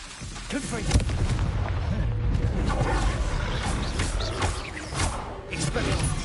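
Confringo blasting spell explosions in a Harry Potter video game, a dense stretch of booming blasts and rumbling impacts layered with shouted spell incantations and battle noise throughout.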